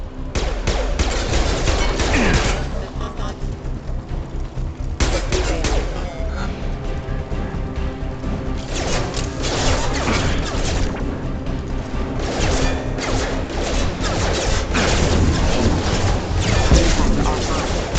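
Sustained heavy gunfire against security mechs in the video game Mass Effect 2 pounds along with booming impacts and crashes, loud and dense throughout, while voices speak over the combat.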